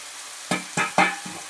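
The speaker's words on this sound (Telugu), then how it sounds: "బాగా అయితే మిక్స్ చేస్తున్నాము." A spoon stirs chili powder into tomatoes frying in a pan for a village-style egg curry, with four distinct scraping strokes over a soft sizzle, close and alone.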